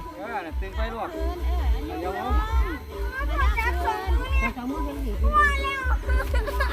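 Several cats meow repeatedly and overlap on a dark rural evening during a Loy Krathong festival, with rising and falling cries close by, voices around them and a low rumble underneath.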